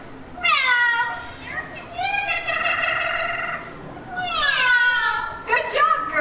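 Young girls imitating a cat at an Animal Kingdom bird show, drawn-out rising and falling meows from more than one voice in several calls, close and clear.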